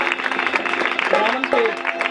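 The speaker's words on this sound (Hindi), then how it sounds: "तो मैं चाहूंगा कि जोरदार तालियां खुदावंद के खादम के लिए" Crowd clapping in a church gathering for a Good Friday service, a dense, steady patter of applause mixed with murmuring voices and a few brief calls over it.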